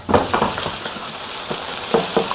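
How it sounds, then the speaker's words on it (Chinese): Homemade pork and scallion dumplings slipping into a pot of boiling water, with soft splashes and bubbling over a steady hiss, a few sharper plops and clinks of a utensil close by. "哇，水开了，我们下饺子了。"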